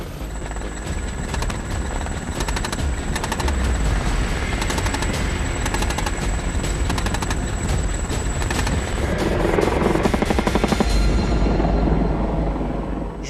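A Tiger attack helicopter firing its 30mm cannon: rapid bursts of heavy shots ripping over the continuous thrum of rotor and turbine, loud and close, with a denser burst near the end before the noise cuts.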